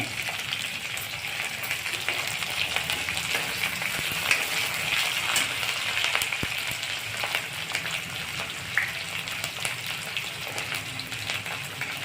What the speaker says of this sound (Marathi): आता आपण मिरची घालत आहोत. बारीक चिरून मिरची घालणे.